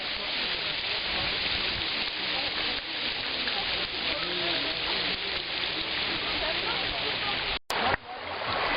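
Water runs down the white travertine terraces at Pamukkale in Turkey, a constant close rushing wash that holds steady throughout, with a brief dropout near the end.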